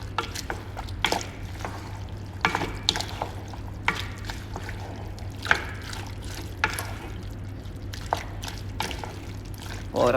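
Date pickle being stirred in a hot pan after vinegar has been poured in, giving soft wet scraping and sloshing strokes at an irregular pace over a steady low hum, with no talking.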